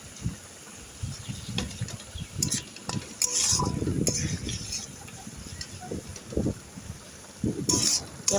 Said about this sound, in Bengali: আদা রসুন পেঁয়াজ সব মশলার সাথে ভালো করে খাসির চর্বিটাকে দিয়ে কষাতে দিলাম